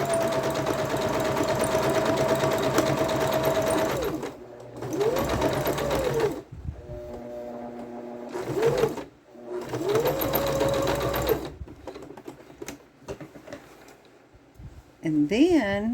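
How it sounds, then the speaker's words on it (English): Sewing machine zigzag-stitching close along a seam on a fabric grocery bag, steady rapid whirring runs in bursts with pauses between, a voice talking over parts of it. "I make a finished edge by zigzagging really close to my seam."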